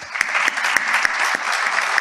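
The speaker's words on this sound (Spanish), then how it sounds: "Un aplauso." Applause at an embassy conference on the aviation sector's transition, a short burst of clapping from a seated audience with a few sharp, distinct claps standing out from the steady patter.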